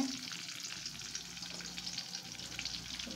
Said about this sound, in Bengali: জিরাটা সুন্দর একটা ফ্লেভার বের হয়ে আসা পর্যন্ত আমি ভাজতে থাকবো এটাকে